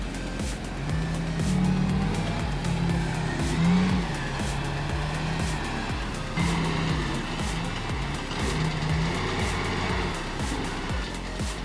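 A heavily loaded logging truck labours up a climb on a road chassis, its engine droning loud and steady with low rumbling harmonics and a few rising strains, heard alone with no talking.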